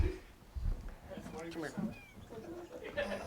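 A house cat meows several times amid lively chatter and laughter from a group at a casual home gathering, the cries rising above overlapping talk.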